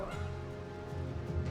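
A dog in the fantasy role-playing game Baldur's Gate 3 gives a few short, faint barks and yips close together during combat, quiet and brief.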